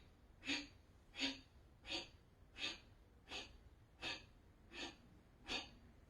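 Forceful, rapid yoga exhales, eight sharp breaths through the nose at an even pace of roughly one every 0.7 seconds, close but quiet, with no talking.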